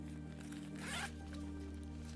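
A zipper is pulled along a pocket of a Peak Design Outdoor Backpack 45L, one quick rasping zip heard close and fairly quiet against a low background hum.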